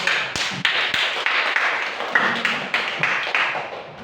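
A classroom gives a round of applause, heard as a steady rhythmic series of sharp claps at a regular beat, loud and close, with no talking over it.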